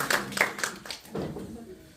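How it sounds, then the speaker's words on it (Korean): A classroom of children claps a few quick, rhythmic hand claps at a teacher's prompt, close and moderately loud, fading into soft voices and murmuring. "자, 박수 쳐주세요."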